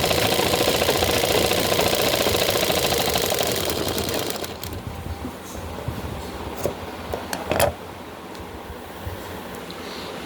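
Sewing machine stitching cloth, a rapid mechanical chatter running steadily for several seconds before stopping, followed by quieter clicks and handling noises.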